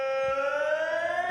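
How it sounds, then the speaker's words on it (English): An EAS emergency alert alarm from an animated series sounds as a steady, loud, harmonically rich electronic tone with a slight upward pitch drift, heard alone and without pause. "Let's just hear the EAS alarm."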